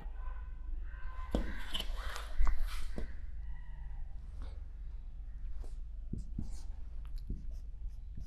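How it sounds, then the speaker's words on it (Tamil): Pencil drawing lines on paper for a geometry construction, soft scratchy strokes in short bursts with quiet pauses, close and faint. "சரி நான் இப்போ வரைகிறேன்"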